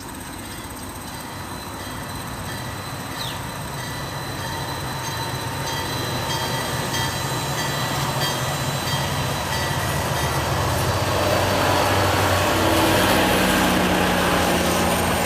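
A train passing close by, a sustained rumbling roar of railcars and wheels on track that slowly grows louder over about fifteen seconds, with faint high squeals and no talking.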